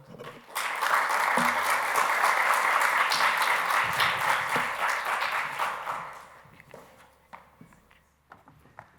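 An audience applauds to welcome a speaker at an engineering diplomacy lecture, with steady, loud clapping that holds for several seconds and then thins out into scattered claps and fades.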